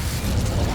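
A fiery spell burst from a Hogwarts Legacy battle: a short, dense whoosh-and-boom of flame with a rumbling low end, loud and close, lasting under a second.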